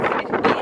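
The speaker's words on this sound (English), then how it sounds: "It's so windy." Wind gusts buffet the microphone on a Chicago city street in a brief, rough, uneven rush lasting under a second.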